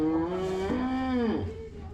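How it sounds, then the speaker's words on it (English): A young Hereford calf moos once in a long, clear, harmonic call lasting nearly two seconds, its pitch sliding downward partway through, close and alone with no talk. "First little Hereford calf of the year."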